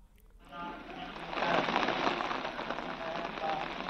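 Rain falls steadily at Hemkund Sahib in Chamoli, a dense continuous hiss of drops on surfaces that swells in after a brief quiet start and stays fairly loud throughout.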